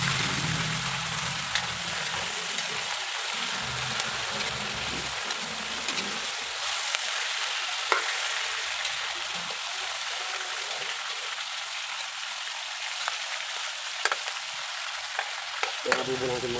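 Tambakol fish sizzling and being stirred in a pan for adobo, a steady close frying hiss with scraping stir noises throughout and no talk.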